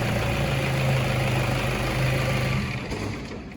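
A car engine with a no-start fault runs after a jump-wire start, giving a steady, loud idle rumble that fades slightly toward the end.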